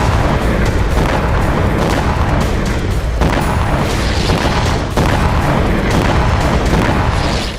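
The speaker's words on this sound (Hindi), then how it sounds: "यूक्रेन के ड्रोन तेल डिपो और गैस के भंडार से टकराते ही बहुत बड़ा धमाका कर रहे हैं।" Explosions from Ukrainian drone strikes on oil depots and gas storage: loud, dense rumbling booms with a sharp blast near the three-second mark and another near five seconds, sustained roaring throughout.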